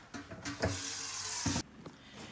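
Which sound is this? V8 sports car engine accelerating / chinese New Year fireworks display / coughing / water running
water running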